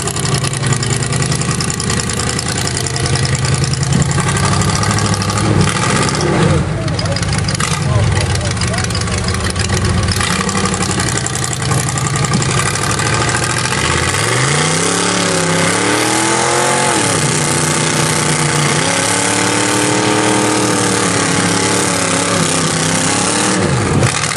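At the 2011 SETTC at Morris Mountain, the Copperhead off-road vehicle's engine idles and revs loudly and close by, with rising and falling pitch sweeps midway, while voices are heard at times.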